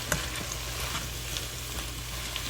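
Jimmy Dean sausage breakfast scramble with vegetables sizzles steadily in a Tiborang pan, a close, continuous fry with faint stirring scrapes and no talking.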